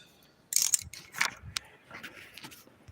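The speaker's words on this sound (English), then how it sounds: "I have an inch-pound torque wrench, a smaller one I'm going to do this with." A small inch-pound torque wrench ratchets during an engine valve adjustment, giving a few close, sharp clicking bursts over a quiet background with no talk.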